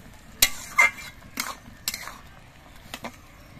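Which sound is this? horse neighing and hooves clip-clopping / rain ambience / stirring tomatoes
stirring tomatoes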